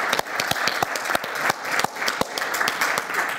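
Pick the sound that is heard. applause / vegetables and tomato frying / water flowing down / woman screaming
applause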